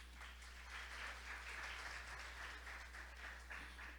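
A seated audience at a SEBRAE ethnic tourism event in Roraima, Brazil, claps steadily for a few seconds as a dense, even patter of applause over a low background hum.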